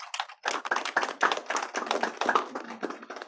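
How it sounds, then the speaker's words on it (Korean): Church congregation clapping for the children at a Sunday worship service, a brisk run of close, distinct hand claps that is fairly quiet overall, with no talk over it. "오늘 어린이들을 위해서 우리 박수하면 좋겠습니다"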